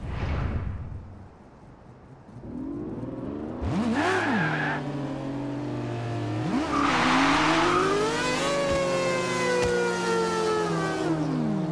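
A Mazda RX-7 rotary engine revs hard and loud, rising and falling through repeated climbs in pitch with a buzzing, high-revving whine, close and sustained for several seconds.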